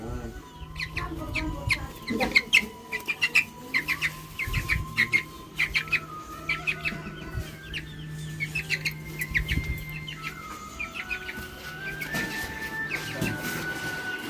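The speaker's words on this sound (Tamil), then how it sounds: "பார்த்தீங்களா ஒரு கோழி" Chicken clucking close by at an old village house, a run of short repeated clucks and chirpy calls with brief pauses between bursts, joined at moments by other birds and faint voices.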